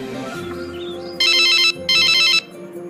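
A telephone rings in two loud electronic bursts, each about half a second, breaking over a steady low background hum.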